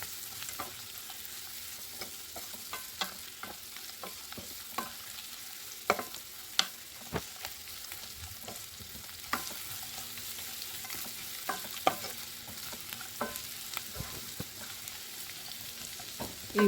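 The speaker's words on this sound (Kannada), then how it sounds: "ಈಗ ಇದನ್ನು ಮತ್ತೆ ಚೆನ್ನಾಗಿ ಮಿಕ್ಸ್ ಮಾಡ್ಕೊಳ್ತಾ ಇದ್ದೀನಿ." Lemon rice with turmeric is stirred in a hot pan, with repeated sharp spoon scrapes and taps over a quiet, steady sizzle of frying, no talking.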